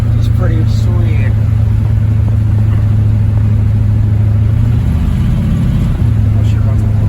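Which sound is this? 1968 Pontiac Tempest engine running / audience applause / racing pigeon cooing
1968 Pontiac Tempest engine running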